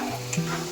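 Chivda ingredients frying in hot oil that has just cooled from the added mix, a steady close sizzle with light stirring over a brief moment.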